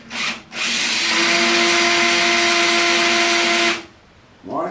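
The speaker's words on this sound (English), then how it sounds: "I need you to drill this one." A power drill runs in one continuous loud burst of about three seconds, a steady whine with strong tonal hum, preceded by a short spurt and followed by a brief pause and the start of another.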